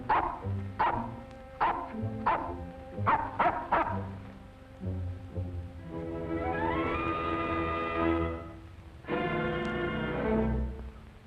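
A dog barks several times in quick succession, then music swells with sustained tones and rising notes before a final bark breaks through.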